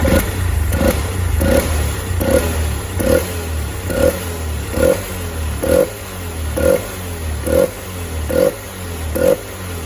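A Honda motorcycle engine fitted with an ignition coil tuning box blips repeatedly at a steady rhythm, about a dozen sharp revs rising over a rough idle, loud and close.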